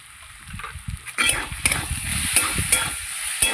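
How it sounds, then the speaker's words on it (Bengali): Lau and lotir with masala stirred in a frying pan, a spatula scraping and tapping the metal in quick irregular strokes over a soft sizzle, close and fairly loud, no talk. "এবার নাড়াচাড়া করে নেব।"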